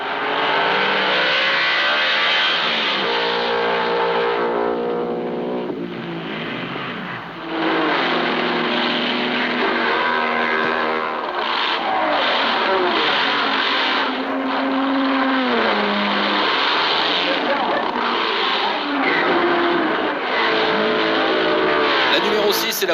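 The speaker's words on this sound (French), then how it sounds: "Gros plan sur la Ferrari numéro 17 cette fois, la superbe 250 GTO grise de Bob Grossman et Glenn Roberts." Period race cars, including a grey Ferrari 250 GTO, run at the 1962 Le Mans 24 Hours. Engines rise and fall as they pass and rev, with wavering pitch, under steady commentary throughout.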